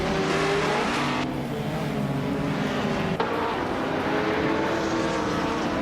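A 2008 Porsche 997 GT3 R race car engine in a racing video game, a steady loud drone of engine noise with a brief shift in pitch partway through and a short sharp click near the middle.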